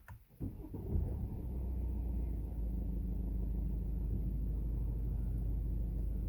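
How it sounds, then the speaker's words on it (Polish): A BMW 3 Series F30 318d diesel engine starts with a short burst, then settles into a steady low idle rumble, heard faint and alone. "odpalacie auto, nie dodając gazu, niech samo zgaśnie ciśnienie oleju"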